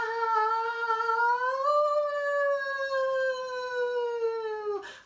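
A single voice imitates a wolf howl, a long sustained rising then gently falling "ow" tone, heard alone and clearly for about five seconds before cutting off.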